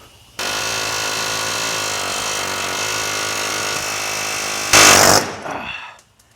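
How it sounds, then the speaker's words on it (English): A loud power drill grinds steadily into the steel frame of a Ford Ranger truck, rising sharply in pitch near the end before winding down and stopping. "I think we're gonna have to drill a hole in the frame"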